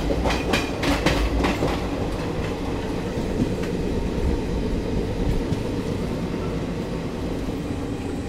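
Passenger express train running on the rails near Urkura, crossing from the middle line to the third line, with steady rolling rumble and a burst of rhythmic wheel clacks over joints early on, continuing as a sustained near ride noise.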